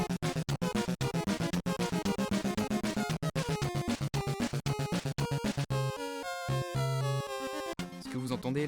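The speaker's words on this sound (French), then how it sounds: "Ce que vous entendez là, c'est un des thèmes que je préfère dans un de mes jeux préférés, qui s'appelle Undertale" Chiptune-style 8-bit theme music from the video game Undertale, a steady stream of bright square-wave notes over a pulsing bass line, loud and continuous with a brief shift in texture near the end; no voices.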